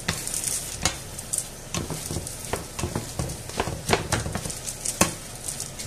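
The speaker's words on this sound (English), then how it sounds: "let's give this a" Fideuà, a Spanish seafood pasta, is stirred in a sizzling pan, with repeated scraping and clacking strokes of the utensil over a close, steady frying hiss.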